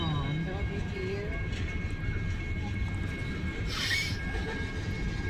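A BNSF mixed freight train rolls past at night, with a loud, steady rumble of wagons, rhythmic wheel clatter and occasional high squeals from the wheels, while people talk faintly nearby.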